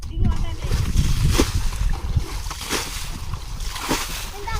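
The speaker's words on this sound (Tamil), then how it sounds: "தண்ணி ஊற்ற ஆரம்பிச்சிட்டோம்" Water splashes and sloshes in irregular bursts close by, with voices talking over the noisy, rumbling background.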